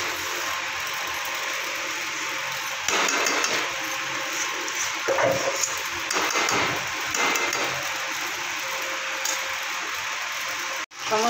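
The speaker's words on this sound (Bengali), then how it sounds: "এবার আমি দিয়ে দেবো ভেজে রাখা আলু। আলুটা দিয়ে আমি ভালো করে একটু কষিয়ে নেব।" Fried potatoes are being stir-fried with spices in hot oil in a pan, with a steady sizzling hiss beneath repeated clanks and scrapes of the stirring utensil, close by.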